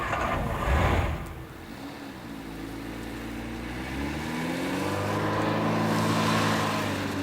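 A 1980 Talbot Solara, a French saloon related to the Simca 1307, drives along with a steady engine note that rises through the gears, close and continuous with no talk.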